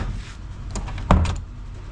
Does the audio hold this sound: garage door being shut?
yes